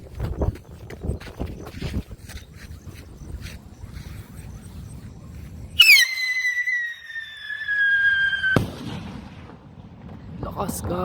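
A 25-gram whistle rocket firework launches at test fire with a loud, sudden shriek that slides steadily downward in pitch for close to three seconds, then cuts off abruptly, between stretches of outdoor background noise.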